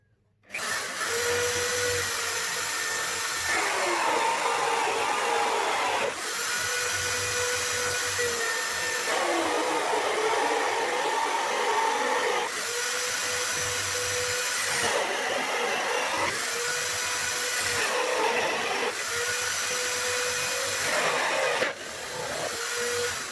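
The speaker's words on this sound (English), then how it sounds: "So let me start drilling these two holes." A hole saw in a drill cuts round wooden pieces for a Moxon vise behind its main knobs, a loud, steady whine that runs in long bursts with brief dips and changes in pitch.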